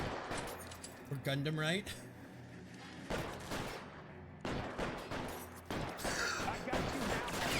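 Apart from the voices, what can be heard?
gunfire from a video game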